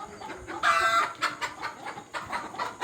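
Fayoumi chickens on an egg farm cluck and call in short overlapping bursts. One brief, loud squawk rises above the softer chatter of the flock.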